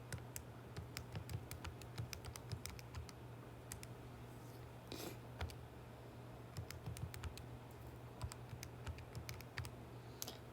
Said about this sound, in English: I'm going to type that thing in.